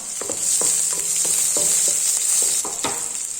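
Chopped large onion frying in hot oil for a Tamil sangara fish curry, a steady loud sizzle with repeated scraping stirs of a spoon against the pan.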